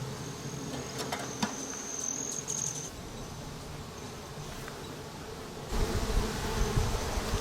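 Honeybees humming in an opened hive that is weak and sparsely populated, a soft continuous drone with small rises and falls and occasional close buzzes passing the microphone.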